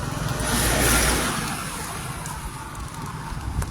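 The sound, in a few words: vehicle passing by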